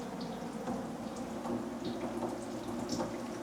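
Brake fluid drips steadily into catch bottles during a brake flush on a former fire-truck Sprinter van, a soft, irregular patter of small drops over a low background hum.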